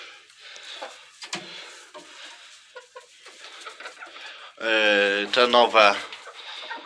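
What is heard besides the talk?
chickens clucking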